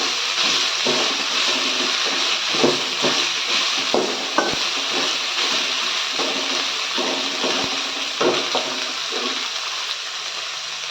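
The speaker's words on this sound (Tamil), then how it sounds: "இப்போ ஒரு 5 மினிட்ஸ் கிட்ட வதக்கி விடுங்க" Chopped capsicum sautés in a pan for a capsicum egg fry, with a steady loud sizzle and scattered scraping stirs and clinks from a spatula close by.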